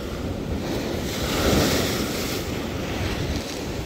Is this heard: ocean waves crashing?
yes